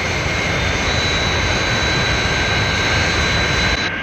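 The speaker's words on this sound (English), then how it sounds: "That's certainly some aircraft." Jet engines of the Fire Flash aircraft from Thunderbirds roar in a loud, steady, continuous wash with a high whine, cutting off abruptly just before the end.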